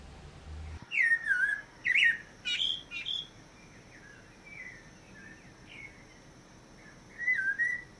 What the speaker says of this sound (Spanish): ¿Se han dado cuenta que en esta época cantan muchos más pajaritos?